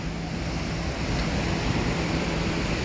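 High sea waves surge at the Keezhur estuary near a breakwater under construction, a continuous loud roar of surf with wind rumble and no voices.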